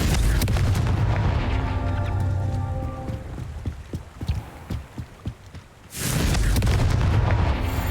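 A Confringo spell explosion in Hogwarts Legacy: a loud rumbling roar, a stretch of quieter crackling thuds and debris pops, then a second booming blast surging back at full strength.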